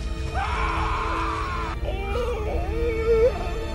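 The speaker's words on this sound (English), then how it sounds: "oh shit, you hear that scream?" A high, drawn-out scream from the film The Green Mile rises and wavers over a low rumbling background, followed by a shorter strained cry.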